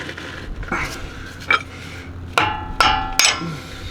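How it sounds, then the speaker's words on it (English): Several sharp metallic hammer strikes on a brake rotor of a 2013 Ford F-250 ring out at irregular intervals, each clang leaving a brief ringing tail, loud and close. "Use the hammer."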